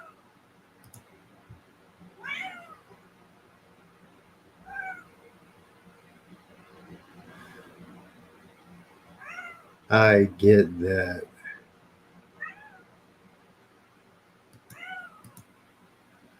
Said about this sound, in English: No, you just sit there and meow, meow, meow.